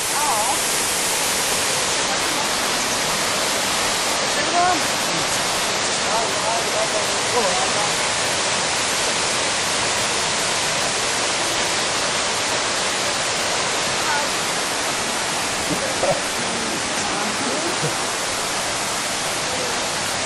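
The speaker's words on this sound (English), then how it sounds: "This is the waterfall uh, at the very beginning of the story." A waterfall at the start of a Journey to the West theme park attraction in Guangzhou pours with a loud, steady, broadband rush that never lets up, and voices are faintly audible beneath it.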